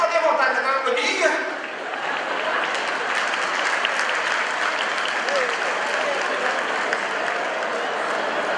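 A church congregation applauds during a sermon about family, a dense wash of clapping that swells after a brief spoken moment at the start and then holds steady, loud and close.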